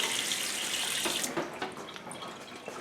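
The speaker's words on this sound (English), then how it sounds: "when we want to run our filtered water, we turn that little switch on" Filtered water runs from a kitchen faucet into a sink, a steady soft hiss that shifts in character partway through as the flow changes, fairly quiet with no talk.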